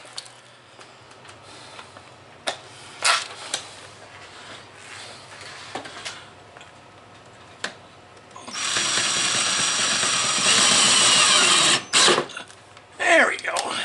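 Screws are driven to mount Braun 4-foot LED shop lights, first scattered clicks and handling knocks, then a sustained loud driver whir of a few seconds followed by a shorter burst.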